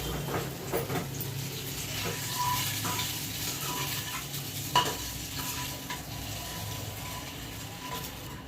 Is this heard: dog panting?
no